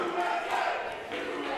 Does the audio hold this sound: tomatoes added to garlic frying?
no